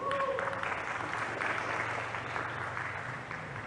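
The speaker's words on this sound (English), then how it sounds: "Please join me to give a round of applause for our contestant this evening." An audience at an English debate applauds the contestants, steady dense clapping that holds at an even level for a few seconds before easing off slightly.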